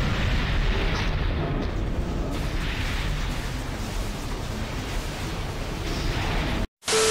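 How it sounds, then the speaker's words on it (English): A huge nuclear-style explosion in the video game Mabinogi roars as a dense, sustained blast of rumbling noise for several seconds, then cuts off abruptly near the end. "A nuclear explosion?"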